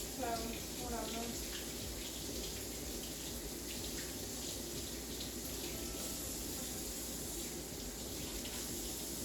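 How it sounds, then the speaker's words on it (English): Tap water running steadily into a kitchen sink while hands are washed, a soft continuous splashing hiss at moderate distance, with a voice briefly heard near the start. "So let me wash my hands."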